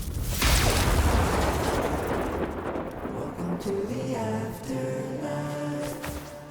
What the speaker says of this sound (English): when you die, you get to hear this cool jingle